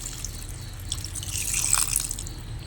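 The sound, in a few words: pouring water into cooking crab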